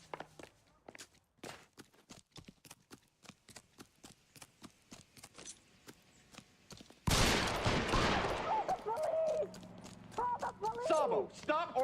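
Gunfire in the video game L.A. Noire: a rapid run of sharp shots, then a louder dense burst of gunfire and chaotic noise mixed with voices and tonal game sound.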